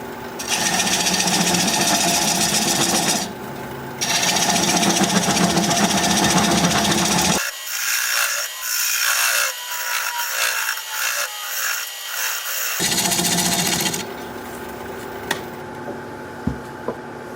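A lathe turns a tenon on a plum wood blank. A gouge cuts with a loud, rough scraping and rasping hiss that stops and starts in bursts, with a quieter stretch in the middle.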